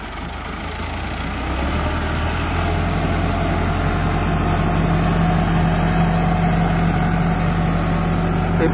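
A tractor engine drones steadily while pulling a heavy super seeder drill through maize stubble to sow wheat. It holds a continuous, even low rumble throughout, close and loud.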